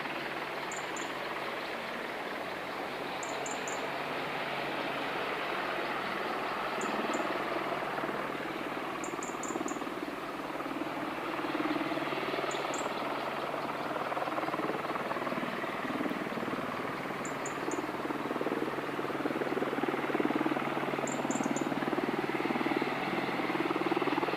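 Helicopter rotors turning at Wattisham Flying Station in the dark, a steady distant low whooshing drone held throughout with faint periodic high chirps above it.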